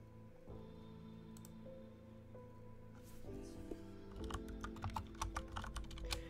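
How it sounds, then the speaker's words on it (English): Computer keyboard typing, quiet at first and then a rapid run of key clicks, set against a steady low hum in a room with faint talk in the background. "While Reese is typing the group chat"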